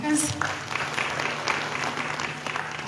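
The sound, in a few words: audience applause for speakers at a consultation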